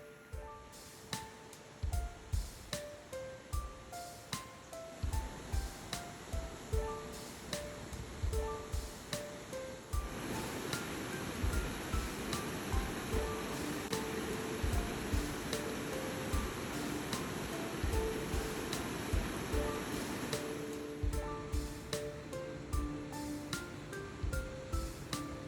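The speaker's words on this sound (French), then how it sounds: "entendre l'eau, c'est très très apaisant" Water flowing outdoors along a hiking trail in open countryside, a steady rushing wash that swells louder midway, mixed with regular crunching footsteps throughout.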